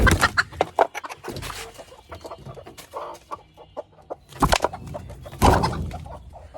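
Several chickens cluck close by in a farmyard, loud irregular bursts of clucking and squawks with brief quieter gaps; no talking.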